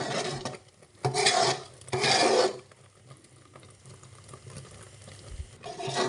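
Continuous stirring of a thickening sweet mixture in a pan, rasping and scraping in two loud bursts then softer steady rubbing, ending with another scrape.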